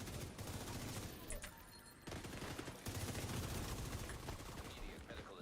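Sustained rapid gunfire in the video game My Friendly Neighborhood, dense bursts of shots running nearly continuously and loudly through the whole stretch with brief dips.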